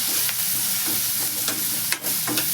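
Masala spices with red chilli powder frying and being stirred in a pan for bitter gourd peel curry, a steady close hiss of sizzling oil with scraping spoon strokes throughout, no voices.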